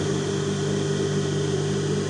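A pedal-driven sewing machine hums continuously while stitching fabric, a steady close mechanical drone with an even level throughout and no voices.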